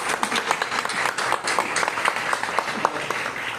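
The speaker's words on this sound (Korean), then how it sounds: "우리 박수로 한번 이분" Applause from the audience at a Korean church gallery event honoring a visiting art guest, a dense patter of claps lasting several seconds at moderate distance.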